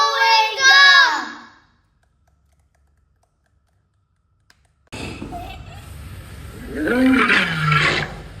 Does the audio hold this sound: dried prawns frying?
no